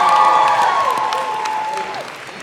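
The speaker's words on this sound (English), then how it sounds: "Guys, make some noise for Julie." A studio audience at a dating show claps and cheers loudly for a couple of seconds; the applause is dense and close, fading slightly, with a whooshing tone sweeping over it.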